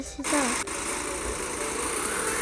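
A car engine in a Roblox video game drones steadily at a high, buzzing pitch, with a brief voice at the start.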